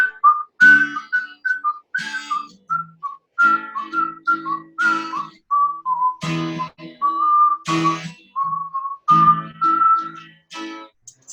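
A melodic whistled tune, close and clear, played as a steady run of short phrases with brief pauses between them.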